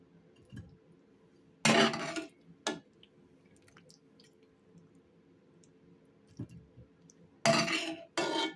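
Soft wet squishes and clinks as boiled cauliflower is set into a baking dish, two short loud bursts separated by quiet pauses with faint scraping between.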